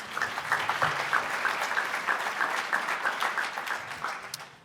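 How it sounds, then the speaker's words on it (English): Audience at a summit giving a round of applause, steady moderate clapping from many hands that tapers off toward the end. "Let's give them a round of applause."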